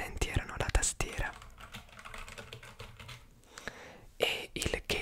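Keys on a new computer keyboard are typed in quick, close bursts of clicks, pausing midway and then resuming, with soft whispering in between.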